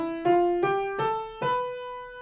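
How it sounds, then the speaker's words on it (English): Four sustained, clearly pitched notes rising one after another, each struck with a bright attack and left to ring, part of an ascending scale starting on C4. "So let me play this whole scale from C4 up."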